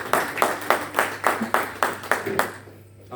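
Church congregation clapping in unison to acclaim Jesus during a service, about nine evenly spaced rhythmic claps in a row, then a quiet pause.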